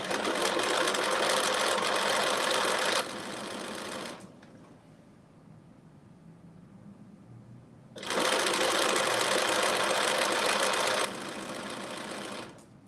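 A sewing machine stitches the seam of dressy McCall's 8447 joggers with a 5/8 inch seam allowance, running in two loud continuous bursts that surround a quieter pause.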